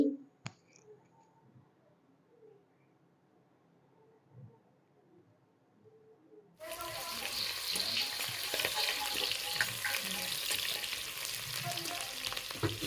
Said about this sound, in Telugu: ఇప్పుడు ఉల్లిపాయ పచ్చిమిరపకాయలు యాడ్ చేసుకోవాలి ఇవి కొంచెం బాగా వేగాలండి